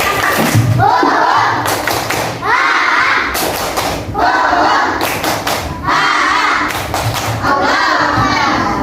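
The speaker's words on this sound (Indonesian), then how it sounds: "tepuk semangat" A classroom of schoolchildren at DIT Islamiyah performs a rhythmic spirit clap: loud, close bursts of many hands clapping in repeated patterned groups, with the children's voices chanting along between the claps.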